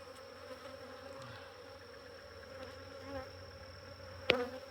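Honey bees buzz steadily around an open apiary hive during an inspection, a close, continuous droning hum with individual bees flitting past, ending with a sharp knock or click.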